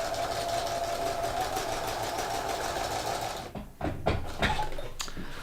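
A sewing machine stitches a double hem on a shirt, running in a steady close rattle that breaks into short stop-start bursts as it reaches the side seam.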